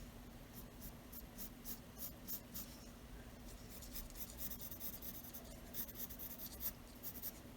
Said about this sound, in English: I will slowly sketch out an arc above